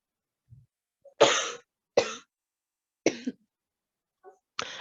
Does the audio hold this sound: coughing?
yes